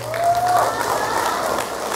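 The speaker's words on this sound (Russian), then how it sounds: "Ваши аплодисменты" Audience applause for a female vocal duet at a concert, a full, even wash of clapping from a large crowd that swells at the start, with a faint whistle-like tone and a voice briefly over it.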